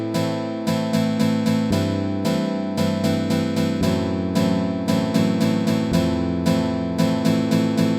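Guitar plays a line cliché chord progression over static, unchanging harmony, a steady series of strummed chords with repeated rhythmic attacks and a descending inner line over about eight seconds.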